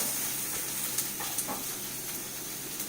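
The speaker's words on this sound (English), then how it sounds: "So throw the onions in there, move them around." Onions sizzle steadily in a hot pan, a continuous bright hiss with a few soft scrapes and clicks as they are stirred around, close and fairly loud with no talking.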